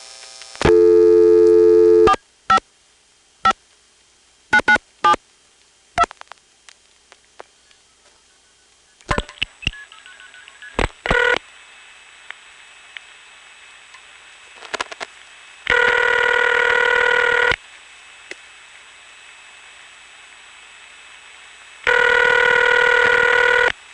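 Telephone switching tones on a 2600 Hz controlled trunk: scattered sharp clicks, then a flash and bursts of steady multifrequency outpulsing tones, with two long loud tone blocks near the end.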